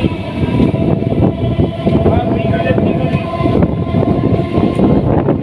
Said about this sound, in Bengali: ট্রেনের স্পিড যথেষ্ট আছে, কোনো সন্দেহ নেই